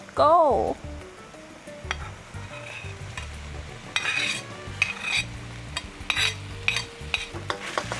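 Rice stir-fried in a pan over lowered heat, with a soft steady sizzle broken by repeated scraping and clacking spatula strokes, growing busier toward the end.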